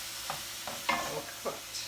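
Ground beef sizzles in a pan for a low-carb Hungarian beef goulash. A utensil scrapes and stirs through the meat in a few short, uneven strokes over a steady frying hiss, close by.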